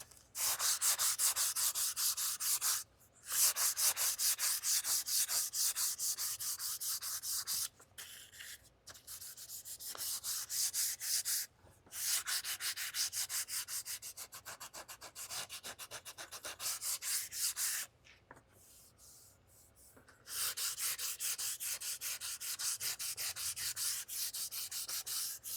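A gun stock is being hand-sanded with 220 grit sandpaper to prep it for hydro dipping. Steady, close rubbing strokes run in long bursts separated by brief pauses, with no voices.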